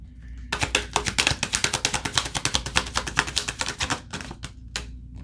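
Tarot cards are shuffled in the hands, a fast run of crisp papery riffling snaps that builds for several seconds, then a few slower separate flicks as cards are drawn, close and alone.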